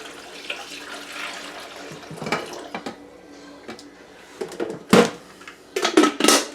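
Water and vinegar solution poured into a coffee maker's reservoir, splashing and trickling in short uneven bursts with a few louder gushes toward the end, close by and with no talk.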